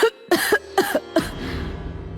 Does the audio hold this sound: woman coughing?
yes